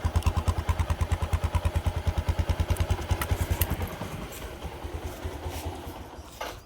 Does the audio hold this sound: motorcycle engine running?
yes